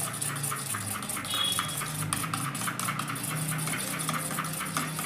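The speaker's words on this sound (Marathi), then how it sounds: "चांगलं फेटायचं एकदम" Eggs with salt for a bread omelette get beaten briskly in a bowl, giving a quick run of light, rhythmic clinks and taps that sit close over a low background hum.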